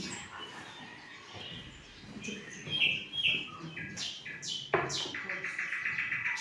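A nightingale singing near its nest in a pine tree, giving short chirps and bright whistled notes that come in clusters, fairly faint against a soft background.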